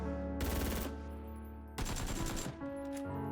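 AKM rifle with no muzzle attachment in PUBG, fired in two sustained full-auto bursts of rapid, loud shots, separated by a short gap with ringing tail.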